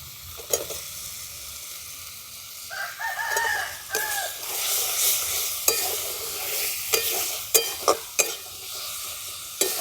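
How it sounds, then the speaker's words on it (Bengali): Diced carrots tipped into cut potatoes frying in a pan for vegetable pulao, a loud close sizzle with repeated scraping stirs and spatula knocks, and a rooster crowing in the background. "আলুটা একটু নাড়াচাড়া করে নিয়েছি। এরপর দিয়ে দিচ্ছি গাজরটা"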